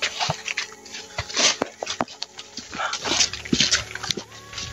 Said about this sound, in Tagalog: Yung mga aso ko.